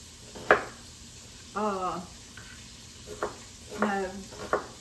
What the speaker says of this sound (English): I am going to just cook these until they get like a char on them